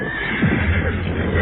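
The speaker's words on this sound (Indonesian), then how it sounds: "hanya dari suara derapnya, para prajurit bisa menghitung bahwa yang datang hanya 2 ekor kuda" Horses whinny loudly up close in an audio drama scene of two horses arriving, one shrill, shaky neigh over a steady low rumble and no speech.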